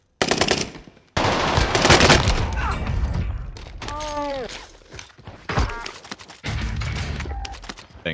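Rapid submachine-gun bursts from an MP40 in the Warzone video game, loud and close, in several sustained volleys with brief gaps between them and a short voice-like sweep midway.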